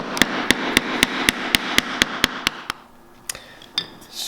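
A mallet strikes a chisel cutting wood while making a Japanese kanna hand plane: about eleven sharp, evenly spaced knocks at close range, then a few softer scraping taps and quiet handling.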